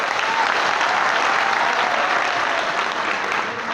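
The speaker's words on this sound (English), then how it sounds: "a round of applause to your parents and your sponsors" An audience applauds at a graduation ceremony in the Palais des congres hall, a dense, steady wash of clapping from many hands, loud and continuous with no talk on top.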